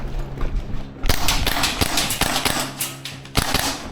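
Maruyama SPC-9 gas blowback airsoft rifle firing, a run of sharp snappy close cracks in uneven succession, loud and dry, with the mechanism clacking between shots.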